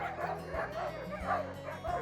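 Sled dogs in Denali National Park bark, yip and whine excitedly while being harnessed to a wheeled sled, a continuous overlapping chorus at moderate distance with music underneath.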